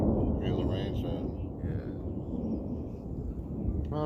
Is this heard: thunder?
yes